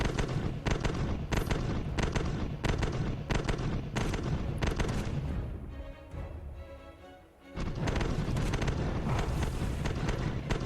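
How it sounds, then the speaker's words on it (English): Cannon fire and blasts from the naval tower defense PC game Iron Sea Defenders, a dense run of rapid booming shots with a steady barrage under a heroic score, briefly thinning before resuming loud. "Most of the time you hear cannons shooting"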